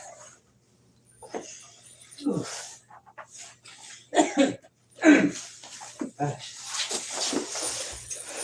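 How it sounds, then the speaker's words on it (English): A few throat-clearing coughs and rasps, close by, scattered among quiet pauses and bits of talk. "Sorry, I keep clearing my throat"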